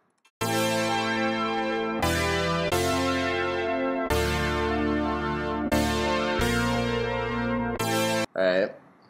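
A Juno synth sample plays ungated through a Reason sampler, sounding as a series of loud sustained rich chords that cut off abruptly between notes, ending with a brief odd tail.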